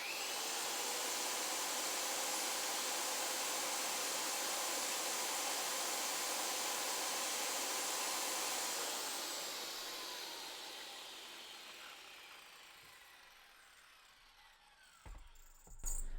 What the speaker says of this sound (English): So here is a regular 7 1/4 inch DeWalt circular saw.